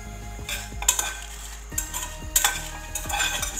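Whole dried red chilies are dry-roasted without oil in a pan on a gas stove, with a utensil scraping and stirring them in repeated bursts while a faint low hum runs underneath.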